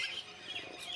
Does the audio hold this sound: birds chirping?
yes